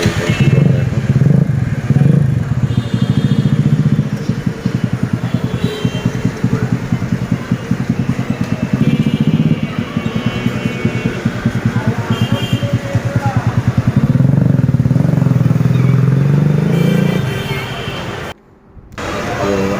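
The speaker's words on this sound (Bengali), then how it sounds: "এখন আমরা বাইকটা চালিয়ে দেখবো, দেখে টেস্ট ড্রাইভ দেবো" A Royal Freedom 100cc motorcycle, modified into a retro cafe racer, runs nearby on a test ride with a steady puttering drone, rising and falling with throttle, before cutting out briefly near the end.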